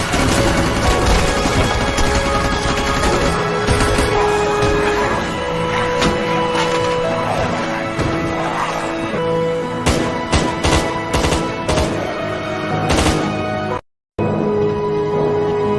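A loud, dense zombie-movie soundscape from Train to Busan with sharp bursts and cracks like gunfire clustered toward the end, followed by a brief dropout.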